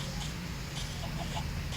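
Soft chicken clucks from Minecraft over a steady low background hum, a few short clucks scattered across the moment.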